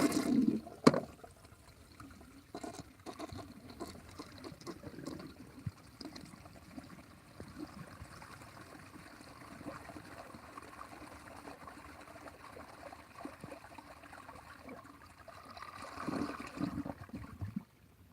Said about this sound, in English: Let's flush this piece of duct tape down it.